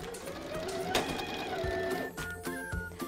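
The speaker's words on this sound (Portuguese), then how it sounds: "Agora eu vou começar a costurar esse elástico." Sewing machine running a straight stitch to attach elastic onto fabric for a fitted bed sheet, a steady continuous mechanical whir with small rhythmic variations, close and moderately loud, no talking.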